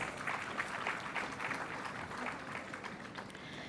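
An audience applauds at a defence industry conclave in India, welcoming a guest onto the stage. The clapping is steady and dense from start to finish, heard at a moderate distance in a large hall.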